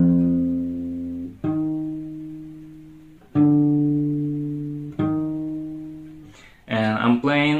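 Acoustic guitar with a capo rings out four sustained strummed chords, each left to decay, followed by a quick burst of busier picked notes.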